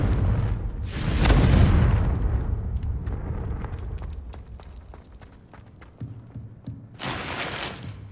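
A Confringo blasting spell in the Hogwarts Legacy video game bursts into a loud, rumbling explosion, followed by scattered debris clatter and a second sharp blast near the end.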